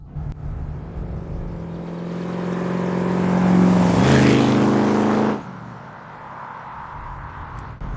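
A 1973 Jensen SP's engine pulls in second gear, a steady loud drone with clear harmonics rising as it accelerates, peaking mid-clip, then dropping sharply to a quieter hum.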